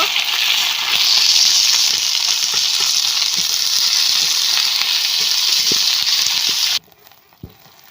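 Cumin seeds and ground spices frying in a pan with onion-garlic paste: loud, steady close sizzle with occasional stirring knocks, cutting off abruptly near the end to near silence and a last tap.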